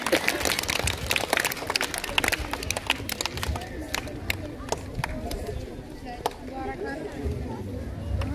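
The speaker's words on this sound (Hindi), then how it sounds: "इन दोनों के लिए जोरदार तालियां बजाएं" A school audience claps for two students, dense crackling applause with scattered sharp claps and chatter from children mixed in, loud and close at first then thinning out.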